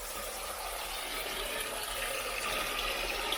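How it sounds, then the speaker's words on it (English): Tap water runs steadily while vegetables are rinsed in a home kitchen, a faint, even hiss and splash with no break over a few seconds. "give that a little rinse"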